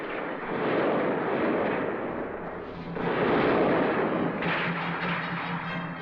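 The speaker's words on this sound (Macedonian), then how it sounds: "Пак пука" Gunfire in a 1969 war film, a dense, continuous roar of shooting and blasts that stays loud and near throughout, swelling again midway, with no voices over it.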